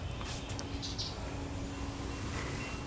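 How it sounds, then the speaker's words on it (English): Birds call in a morning garden, scattered chirps and short tweets over a steady outdoor background hum, fairly faint and distant. "Do you hear all those birds?"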